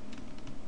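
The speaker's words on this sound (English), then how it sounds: "I start typing here" Typing on a computer keyboard in the Padre Perl IDE while entering curly braces: a short burst of a few quick, close keystrokes against a quiet background.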